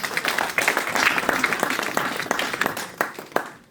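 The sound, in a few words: audience clapping at a seminar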